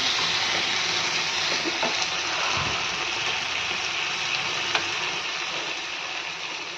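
Ridge gourd fry with garlic sizzling in oil in a pan as the water cooks off, a steady close frying hiss with faint occasional clicks, no voices.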